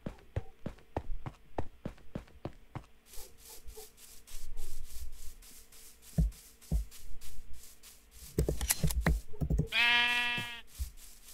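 A Minecraft sheep lets out a clear, wavering bleat near the end, following a run of crisp blocky clicks and scraping in-game sounds.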